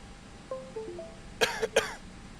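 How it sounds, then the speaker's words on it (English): A person coughing in an aircraft cockpit: a brief throat sound, then two sharp, loud coughs in quick succession, with faint background hum. "He keeps coughing."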